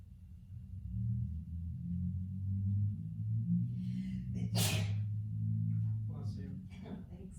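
A single sharp sneeze from someone in a yoga class, bursting out near the middle over a steady low hum of the room, followed by faint movement sounds.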